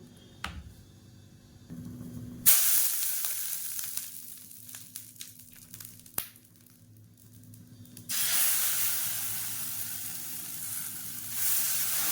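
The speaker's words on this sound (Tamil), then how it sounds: "இப்போ இதை நல்லா கரைச்சிட்டு இப்போ வந்து தோசை ஊற்றிடலாம்." Tomato adai dosa batter poured onto a hot pan, giving a sudden loud hiss that fades into crackling, then a second burst of strong steady sizzling; no voices.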